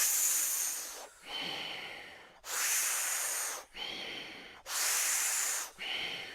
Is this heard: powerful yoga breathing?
yes